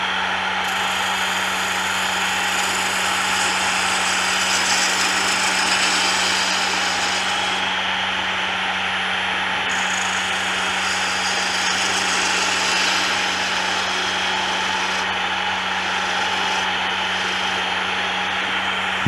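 A woodturning lathe spins steadily while a 3/8 spindle gouge cuts fine detail, giving a continuous loud motor hum with a scraping, hissing cut that rises and falls in bursts throughout.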